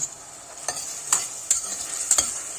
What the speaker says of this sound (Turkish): Soğan ile beraber kavuruyorum.